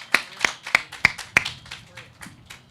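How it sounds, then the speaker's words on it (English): Audience applause at a community development event, a handful of sharp, close claps in an uneven rhythm that thin out and fade, with faint talk underneath. "Please, a round of applause for these people."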